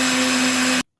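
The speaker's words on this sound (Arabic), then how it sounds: "وهنضرب بقى في الخلاط." An electric hand mixer beats cake batter with sugar and milk for a chocolate-vanilla family cake, a steady loud whirring motor hum that cuts off abruptly near the end, leaving brief silence.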